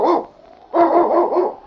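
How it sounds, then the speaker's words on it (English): Sled dog barking in an old radio drama, heard as a close, loud bark followed by a longer run of baying barks, with no talking. "It's Yukon King, swiftest and strongest lead dog of the Northwest"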